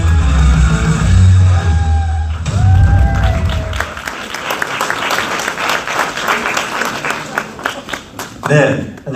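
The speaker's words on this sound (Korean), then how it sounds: "큰 박수와 환호로 맞이해 주시면 좋겠습니다" An audience at a Democratic Party rally in Daegu breaks into loud applause and cheering, with a voice over a speaker at first, then dense sustained clapping that carries to the end.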